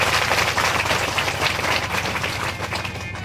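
Steady applause from an audience at a religious storytelling gathering, a dense continuous wash of clapping that holds at an even level for a few seconds and eases slightly toward the end.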